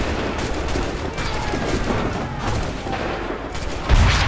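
Dense, continuous battlefield gunfire from musket volleys crackles in the Assassin's Creed 3 video game during the Battle of Monmouth, with a heavier blast near the end.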